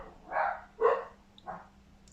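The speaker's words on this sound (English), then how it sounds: "Don't know why the dogs are kicking off." Dogs barking inside a house at a delivery arriving at the front door: three muffled barks in quick succession, fairly close, in an otherwise quiet room.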